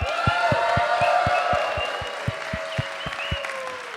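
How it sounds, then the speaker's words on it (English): Live audience at a tech podcast show applauding and cheering, a broad wash of clapping with whoops and a steady rhythmic clap pattern underneath, fading slightly toward the end. "Give Ilan a round of applause, everyone!"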